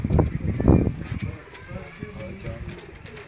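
Pigeons from a kept flock coo in low, throaty bursts close by, loudest in the opening second and then softer and more spread out, while someone talks over them.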